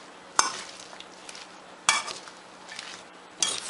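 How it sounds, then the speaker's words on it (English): Zucchini salad with walnuts and dressing gets tossed inside a bag. Three separate bursts of crinkly rustling and soft shaking are spaced across a quiet background, close and fairly faint. "I'm going to give that a toss to get all of that dressing tossed together"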